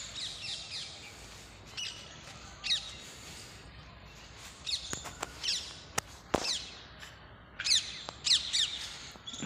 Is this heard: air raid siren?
no